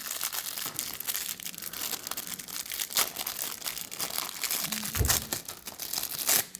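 A plastic wrapper around a Pokémon promo card is crinkled and torn open up close, with continuous rustling and crackling broken by a few sharper tearing bursts.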